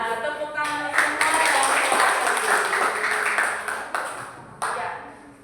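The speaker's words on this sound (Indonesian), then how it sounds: "tepuk tangan semua" A classroom of schoolchildren at a mathematics lesson during a teachers' day competition clap together, a dense burst of applause lasting several seconds and fading, with a few sharp knocks and voices mixed in.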